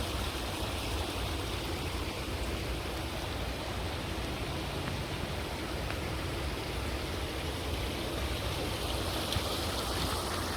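Water flowing through a dam, a steady broadband rushing roar, constant and moderately loud with no pauses or voices.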